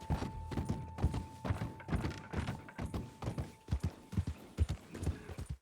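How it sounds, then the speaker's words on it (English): A horse's hooves clip-clop steadily in Red Dead Redemption 2, a brisk rhythmic trot of close, distinct hoofbeats over a faint constant tone, with no talking. "Stowing it on our horse. Getting on our horse."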